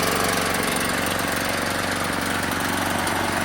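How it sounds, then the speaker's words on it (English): A Firman 3650 portable generator runs steadily outdoors, its small engine droning with a constant, even mechanical hum and buzzy vibration throughout, close and fairly loud with no pauses. "It's running now."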